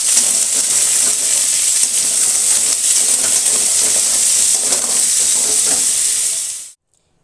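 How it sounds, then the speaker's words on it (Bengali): Potato and carrot pieces fry in a pan (kadai), giving a loud, steady, dense sizzle that runs unbroken and close, then cuts off abruptly near the end. "সবজিগুলো একদিকে ভাজা হচ্ছে"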